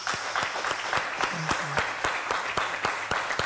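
An audience bursts into sustained, even applause, dense and moderately soft, with a brief murmur of a voice partway through.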